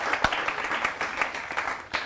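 An audience at a Kavi Sangram poetry event held for Azadi Ka Amrit Mahotsav claps steadily for about two seconds, a dense, moderate burst of applause from a crowd.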